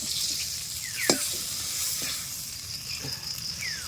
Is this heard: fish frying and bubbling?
yes